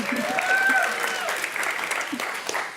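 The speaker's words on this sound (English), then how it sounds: "Round of applause for local girl." Audience applause for Katrina Lake at a Commonwealth Club talk in San Francisco, a steady, fairly loud wash of clapping from a seated crowd that holds for a few seconds with a faint tone and voices underneath.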